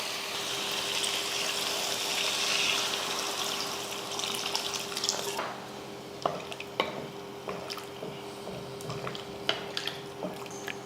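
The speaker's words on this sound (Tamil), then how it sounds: "இப்போ இதில் தண்ணி சேர்த்துருவோம்." Water pours into a pot of sambar masala with a loud gushing splash and sizzle, then gives way to scattered drips, clinks and bubbling.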